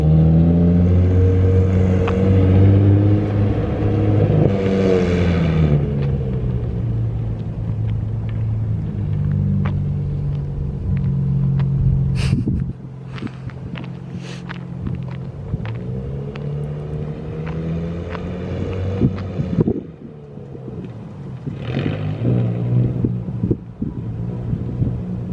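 A Nissan 350Z Nismo roars through long revving pulls as it drifts, the engine note rising and falling across gear changes, with wind buffeting and a few sharp tire or gravel ticks.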